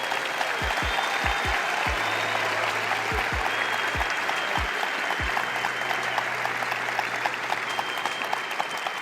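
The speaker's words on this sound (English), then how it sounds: "I want everybody to clap it up for these people to encourage them." An audience claps steadily to encourage people on stage, a dense continuous round of applause with a few deep thumps and a low hum underneath.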